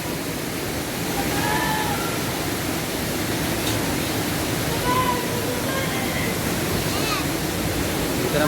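Steady broadband rush of water at Bulawan Falls, a constant loud roar filling the whole scene, with faint voices and birdlike chirps heard over it.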